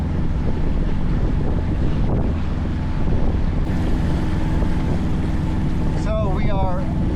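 Wind buffets the microphone aboard a sailboat on lumpy, choppy water, a constant heavy rumble and rush of sea and gusts with brief chirping sounds near the end.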